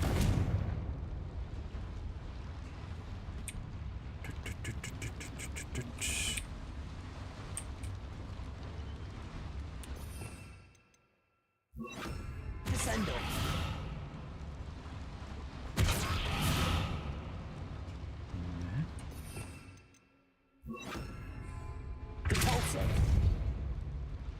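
A Confringo fire spell is cast repeatedly in Hogwarts Legacy, with loud booming blasts and roaring bursts that recur in waves, separated by brief silent gaps, over dense game sound.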